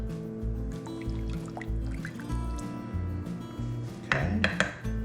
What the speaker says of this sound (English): Now that we have all of our spices in and our jalapenos, we're just gonna stir it up.